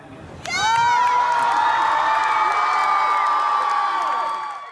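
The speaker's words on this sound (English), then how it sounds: "the crowd, along with its pop star, can be seen cheering" A crowd at a pop concert breaks into loud, sustained cheering and high whoops that swell suddenly and hold steady for several seconds before fading slightly.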